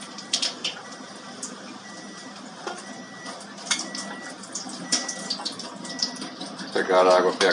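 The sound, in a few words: Enagic water machine dispensing pH 11.5 water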